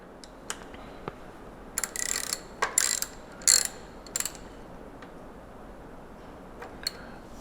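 A ratchet wrench clicks in short bursts while tightening a part on an MV Agusta F3 800 motorcycle, close and fairly loud, with quiet gaps between the strokes and no talk.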